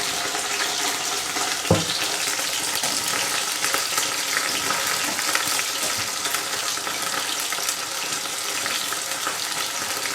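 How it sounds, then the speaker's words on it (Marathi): Paneer frying in a pan over a low flame, giving a steady, close, fairly loud sizzle that carries on without pause, with one brief knock partway through. "पनीर असं ब्राऊन होईपर्यंत भाजून घ्या छानपैकी"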